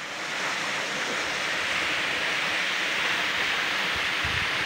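Bowen Falls, a waterfall, gives a steady, loud, broadband roar that fills every moment without a break, heard close to the water with no talking.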